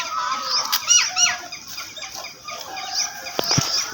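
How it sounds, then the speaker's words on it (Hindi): Small birds chirp and squeak outdoors near a farm, with quick high calls scattered over a soft background and a few sharper bursts near the end. "ये छोटी छोटी चिड़ियाँ और वो परिंदे हैं ना, छोटे छोटे, उनकी आवाज़ कितनी प्यारी"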